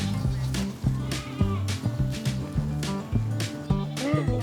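Goats at a farm pen bleat repeatedly and loudly close by, their calls overlapping in uneven bursts.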